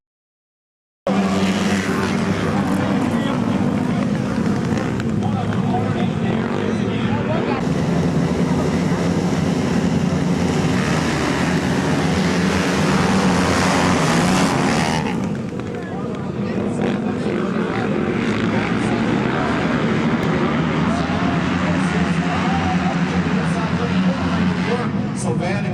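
Racing motorcycles roaring past during a night race at the Daytona racetrack, a loud, continuous engine drone that swells and shifts for about twenty-five seconds, with a commentator's voice running over it.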